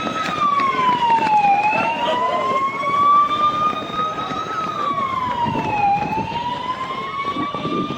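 A wailing air raid warning siren, sounded during a civil defence mock drill, rises and falls in long sweeps, loud and steady over steady background noise, with no talking.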